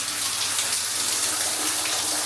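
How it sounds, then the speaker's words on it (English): A hotel rain shower runs steadily overhead in a bathroom, its dense, even hiss of falling water filling the space close by without pause or voices. "There's your rain shower."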